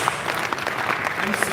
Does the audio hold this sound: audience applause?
yes